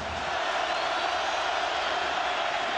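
Stadium crowd roaring at a 2009 Oklahoma at Nebraska college football game, a steady dense wash of cheering that stays loud and unbroken throughout.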